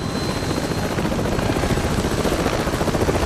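A loud, steady sci-fi aircraft engine roars with a whining turbine and a fast, rhythmic rotor chop, close and continuous; sound design for the 2009 film Avatar.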